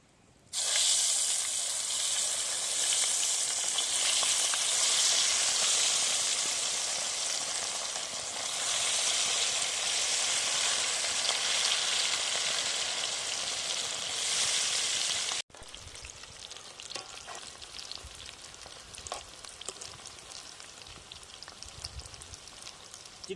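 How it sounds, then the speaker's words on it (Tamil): Chicken 65 pieces deep-frying in hot oil in a village outdoor kitchen, a loud steady broadband sizzle that runs for about fifteen seconds, then drops abruptly to a quieter, crackling simmer. "இப்போ வந்து 65 போடுறோம்."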